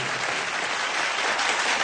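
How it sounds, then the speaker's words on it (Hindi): Dense, steady applause from an awards-show audience, loud and continuous throughout with no talking over it. "मैं चाहूंगा एसपी साहब के लिए जोरदार तालियां"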